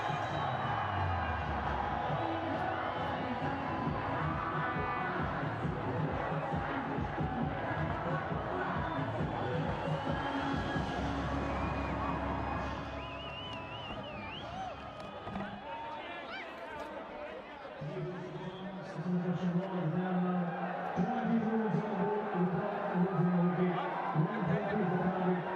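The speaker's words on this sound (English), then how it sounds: "The crowd's going in a tizzy." Large cricket crowd at TU Stadium during a National Premier League match, a dense roar of cheering and chatter that stays loud throughout, dipping briefly midway before swelling again.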